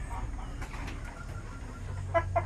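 Pure-line Zampen chickens cluck softly at a farm, with a couple of short, distinct calls near the end over a low background hum.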